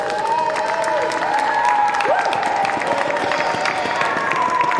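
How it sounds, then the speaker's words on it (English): Audience applause at a lecture event, a steady, moderately loud wash of clapping with a faint cheer or tonal voice threading through it, holding evenly throughout. "Definitely deserves a round of applause."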